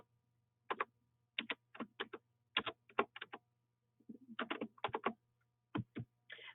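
Keys clack on a regular computer keyboard in short, quick bursts of a few strokes each with brief pauses between, close and clear over a faint steady hum, and no one speaking.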